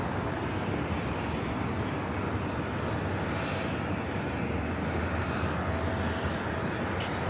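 A jet airliner taking off from the south side at LAX, a loud, steady, broad roar that holds without pause, heard at a distance.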